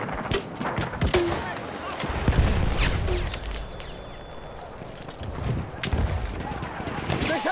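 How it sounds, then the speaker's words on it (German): Enemy machine-gun fire in Battlefield 1, bursts of rapid shots cracking in and out over a noisy battlefield backdrop, some near and loud, others more distant, with shouting voices in the mix. "Feindliches Maschinengewehr!"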